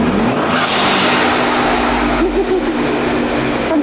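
A turbocharged V6 car engine fitted with a Turbosmart blow-off valve revs loudly and close, a continuous throaty roar that swells and eases slightly without pause.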